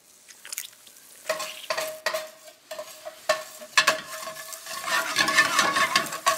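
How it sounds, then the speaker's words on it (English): Lemon juice stirred into a pan sauce in a frying pan, after pan-fried whitefish, gives repeated metal scraping strokes and clinks over a sizzle that builds louder toward the end, with no voices. "all you have to do is just add some lemon juice"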